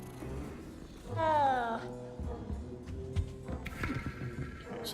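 A cat meows once in a fantasy video game, a clear, rising-then-falling cry over soft ambient game sounds, with a few footstep-like thumps afterward.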